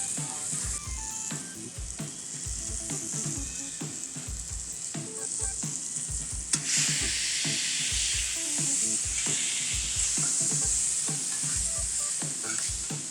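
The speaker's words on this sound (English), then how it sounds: "our buns are over here getting a little color on them." Burger buns toasting on a hot barbecue grill beside taco fixings, giving off a steady close sizzle and frying hiss with faint clanks and scrapes, swelling louder partway through, no voices.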